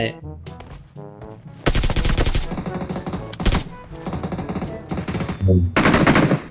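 Video game gunfire bursts loudly and repeatedly, rapid machine-gun volleys broken by short pauses, with a few faint voices and game sounds in between.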